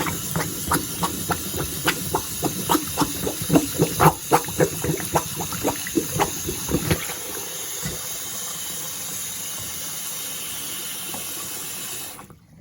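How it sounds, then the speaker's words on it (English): A bathroom sink drains after a clog is plunged, first with a run of sharp rhythmic gulping and sucking pulses, then a steady close rushing gurgle of water flowing down the pipe that cuts off abruptly at the end. "And that's draining right out for us"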